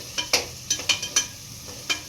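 Two large onions sautéing in oil in a pan for tomato rice, with quiet sizzling under a handful of sharp spatula scrapes and stirring strokes spaced irregularly through the clip.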